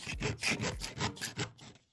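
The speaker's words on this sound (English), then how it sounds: "You can just simply use a hacksaw and cut the end" Close, rhythmic rasping strokes of a hacksaw biting through a plastic heater plenum, about eight quick back-and-forth passes in two seconds.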